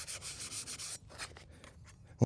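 Steady abrasive rubbing of sanding A-pillar light housings for a Bronco before painting, a continuous rasp for about a second, then shorter scraping strokes with pauses and a small knock at the end.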